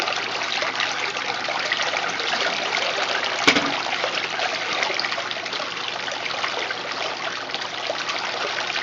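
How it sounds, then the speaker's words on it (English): Water gushes and trickles steadily as a Maytag A50 washing machine spins and drains, a continuous close rushing sound with one brief click partway through. "We keep this in spin drain so we don't have any draining when we're spinning."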